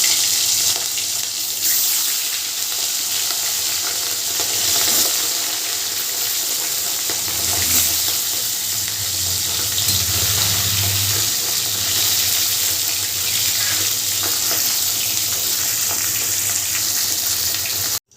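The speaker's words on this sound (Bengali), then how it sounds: "বাকি যে মাছগুলো আছে সেগুলোও আমি একে একে ভেজে নেব" Pieces of katla fish fry in hot oil, a loud continuous sizzle and spatter lasting the whole stretch, close up with occasional low bubbling, no talking.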